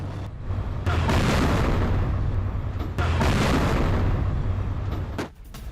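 Heavy bombing strikes on Iran rumble as a sustained, loud, low roar with dense booming across the whole stretch and a brief dip near the end, with no voices.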